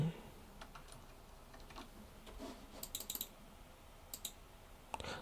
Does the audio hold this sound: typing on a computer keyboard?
yes